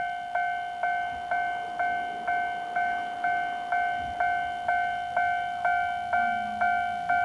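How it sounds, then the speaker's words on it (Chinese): A looped approaching-train signal plays in a station-themed park in Tainan, a steady two-tone chime repeating about every half second over faint outdoor background noise. "明明就有听到火车要来的声音，但是画面当中一直拢看无火车"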